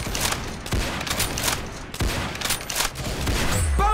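Gunfire in an online shooter game comes in several loud, close bursts of rapid shots with brief gaps between them; no voices.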